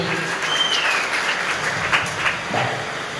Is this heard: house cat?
no